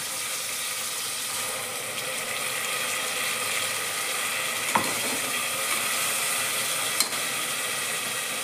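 Ginger and garlic sautéing in a pan with softened tomato for green moong khichdi, a steady sizzle over more than eight seconds, broken by two sharp clicks of spoon on metal, no talking.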